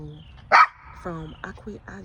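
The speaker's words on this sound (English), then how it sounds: "that's that little dog" One sharp, high yap from a small dog rings out close by, followed at once by a person talking.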